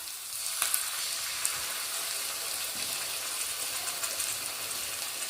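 Tomato sauce hits capsicum frying in a pan for chilli prawns, giving a steady, close, bright sizzling hiss with a few faint crackles throughout and no talking.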